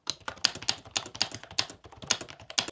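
Rapid close-up typing on an AULA S99 mechanical gaming keyboard, crisp clacky keystrokes in a quick uneven rhythm with no voices.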